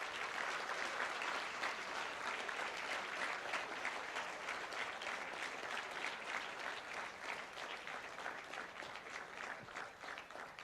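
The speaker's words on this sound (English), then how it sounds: "you all can give them one more round of applause to your parents" Sustained, even applause from a school audience honoring parents at a high school function, a full crowd clapping steadily from start to finish at moderate distance.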